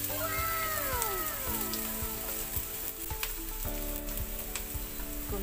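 Onions frying in a pan while cooking crab with fresh coconut milk, a continuous crackling sizzle with a tonal meow-like sound gliding over it early on.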